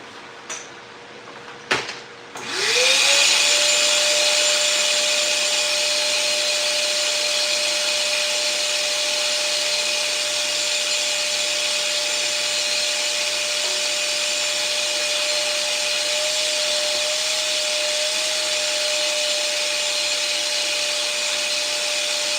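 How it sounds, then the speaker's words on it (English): Inside a grow tent, a vacuum cleaner starts after a few brief knocks, then runs as a loud, steady close-up whine with a constant hum for about twenty seconds. "So I'm just gonna vacuum that up."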